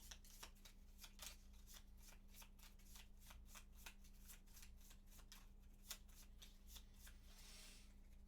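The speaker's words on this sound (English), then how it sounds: "was a shuffle for the shaman attack." Cards from the Gloomhaven board game riffled in a continuous quick series of close, crisp snaps over a low steady hum, with no voices.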